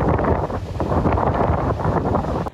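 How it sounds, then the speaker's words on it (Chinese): Strong typhoon wind roars along the coast at Anping in Tainan, a loud continuous buffeting gust with crashing surf underneath, wind pounding the microphone throughout. "仍然可以明显听到风声呼呼大作"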